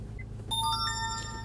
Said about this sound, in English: I cannot figure out for the life of me how to turn off that startup sound